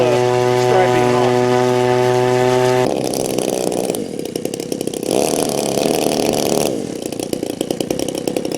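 An RC model airplane's electric motor runs loud and close with a high whining buzz, starting as a steady tonal whine and then shifting to a rougher, pulsing roar that changes pitch with the throttle.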